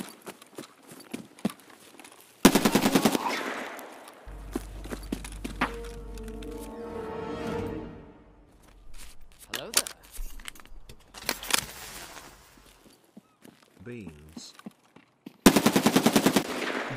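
Bursts of automatic gunfire in Escape From Tarkov during a Lighthouse sniping match, two loud rapid volleys near the start and end, separated by quieter game noise, footsteps and a humming tone.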